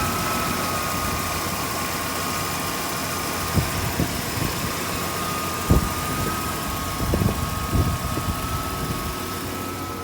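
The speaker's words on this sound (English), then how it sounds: "Alright, we'll go ahead and start her up, take her for a spin, check under the hood," A 1994 Ford Bronco Eddie Bauer engine idling steadily with a constant low rumble and hum, with a few faint knocks and clunks on top of the running engine.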